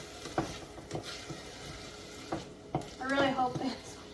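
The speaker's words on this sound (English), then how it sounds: "Let's not completely burn our onions." Onions fry in a pot with a low sizzle, scattered spoon taps and scrapes, and a brief voice-like sound toward the end.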